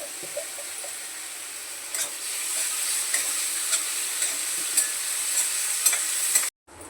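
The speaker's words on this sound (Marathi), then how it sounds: "कांदा टमाटा चांगला मस्त परतलाय बघा बारीक गॅसवर" Onion and tomato sautéed in oil over low gas, a steady high hiss of gentle frying with faint intermittent spatula taps, close and even, ending in a brief drop-out.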